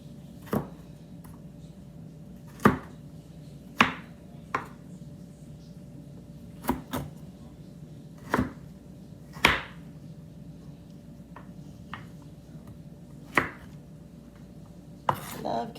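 A knife cuts carrots into matchsticks on a board, producing sharp, irregular chopping knocks spaced a second or two apart, close and distinct over a quiet kitchen background with a faint steady hum.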